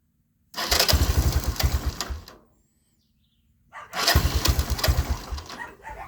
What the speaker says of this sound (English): Key on. Starter button. Cold start.